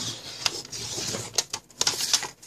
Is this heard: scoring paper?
yes